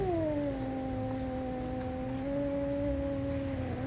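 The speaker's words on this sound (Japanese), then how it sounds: "猫っていうか、でけえな。" A cat in the horror video game DreadOut 2 lets out a long, loud, drawn-out yowl, a sustained angry caterwaul that holds steady for about four seconds and rises slightly at the end.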